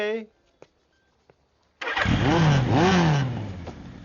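A motorcycle engine starts after a short voice and a few quiet clicks, then bursts into a loud, close roar with rising and falling revs that carries to the end.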